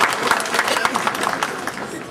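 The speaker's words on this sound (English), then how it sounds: "Please give a big round of applause." Audience applause at the Oha Ne Eze gathering of the Igbo community in Cameroon, a steady dense patter of many hands clapping throughout, fairly loud, with a crowd murmur underneath.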